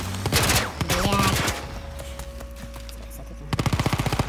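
Rapid automatic gunfire and explosive bursts from The Last of Us Part I, a loud burst at the start, a lull with a steady tone, then another rapid volley near the end.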